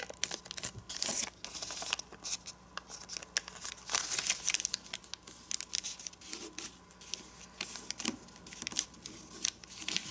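Sheet of origami paper creased and folded down for a dragon model, crinkling and rustling up close in dense bursts with brief pauses between strokes, and no voice present.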